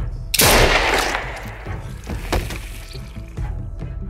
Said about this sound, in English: Let Ava live. Shoot her